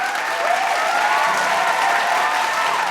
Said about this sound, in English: Let's give all of them a warm round of applause.